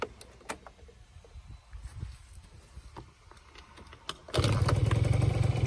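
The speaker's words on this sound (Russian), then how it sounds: "Ну что, давайте сейчас заведем этот скутер." A Honda Dio AF27 scooter engine is cranked with faint stuttering attempts, then catches and settles into a loud, steady buzzing idle close by.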